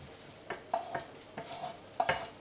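Food pan-fries on a stovetop, a soft sizzle under repeated scraping strokes of a utensil stirring in the pan, several uneven strokes at close range with no voices.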